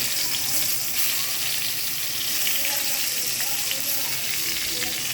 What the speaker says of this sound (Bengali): মাছগুলো এখন আমি ভেজে নেব।